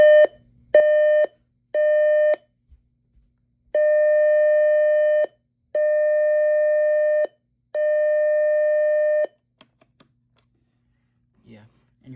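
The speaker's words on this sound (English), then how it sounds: "And then you've got an alarm thing" An Eton Solarlink FR-600 radio's electronic alarm beeps in a steady tone: three short beeps, then three longer ones separated by brief pauses, loud and close.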